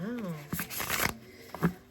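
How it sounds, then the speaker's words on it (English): A new, stiff deck of The Little Hermits Tarot being shuffled, with brief papery riffles and flicks in short bursts at close range, mixed with a voice speaking. "So let me get to shuffling."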